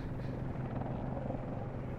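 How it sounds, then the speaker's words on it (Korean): A helicopter thrums steadily overhead, a loud continuous rotor rumble with no speech over it. "또 뭐지? 헬기네."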